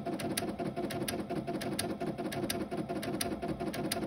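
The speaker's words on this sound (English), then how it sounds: "it has sideways sewing" A Brother Innovis XV8500 embroidery and sewing machine stitching sideways, giving a steady, fast mechanical patter of needle strokes close by with no talking.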